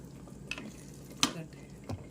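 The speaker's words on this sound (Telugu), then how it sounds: "ఇప్పుడు మనము కట్ చేసి పెట్టుకున్న 2 ఉల్లగడ్డలు, అలాగే మునక్కాయలు వేసేద్దాము." Potatoes and drumstick pieces drop into frying masala for a Telugu drumstick and potato curry and are stirred, with a few scraping clinks over a soft sizzle.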